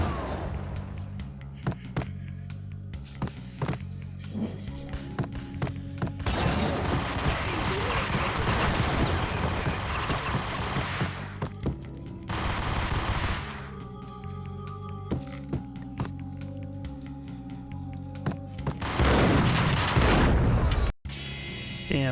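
Rapid bursts of Ingram submachine gun fire in the Max Payne video game, loud sustained automatic volleys broken by brief pauses, with heavier booming impacts near the end and no talking.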